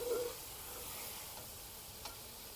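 Carrots cooking in a pot give off a faint, steady sizzle with soft stirring, and a brief light clink sounds near the end.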